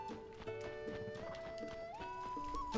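A horse in the video game Zelda Tears of the Kingdom, heard as faint hoof clip-clops under game music with steady tonal notes, while a voice speaks quietly in the background.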